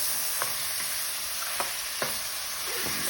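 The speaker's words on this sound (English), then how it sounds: "that has been frying for a couple of minutes" Curry chicken frying in a pot, a steady loud sizzle with several sharp stirring scrapes and clinks at irregular moments, close to the microphone with no talking.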